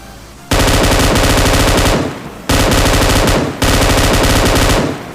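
An M249 light machine gun in a battle royale shooter rips off three long, loud automatic bursts, each lasting over a second with brief pauses between.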